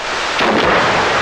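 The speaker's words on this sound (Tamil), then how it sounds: "இப்ப வெடி வெடிச்சது அந்த சத்தம் கேட்கலையான்னு கேட்டேன்" A deep, rumbling boom of a firecracker blast heard from a distance, a broad roar that swells and lingers without fading out.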